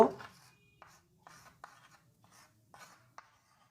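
Pen or pencil writes a sentence by hand on paper in several short scratchy strokes with small pauses between them, close and quiet.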